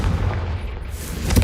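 A Confringo spell explosion in Hogwarts Legacy, a dense continuous boom with heavy low rumble that swells slightly toward the end, heard alone without talk.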